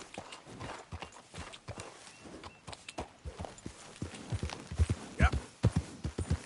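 Horse hooves clip-clop at a steady walking pace in the Red Dead Redemption 2 video game, moderately close, with faint rustling between the hoofbeats.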